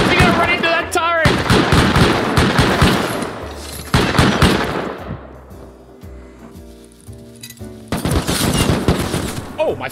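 A base auto-turret in the survival game Rust firing rapid loud automatic bursts in several close volleys separated by short pauses, with metallic ringing tails and a few voice sounds in between.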